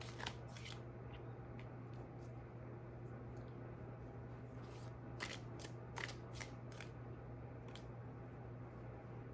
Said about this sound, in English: I'm gonna pick a few cards from here and see what we get from the tarot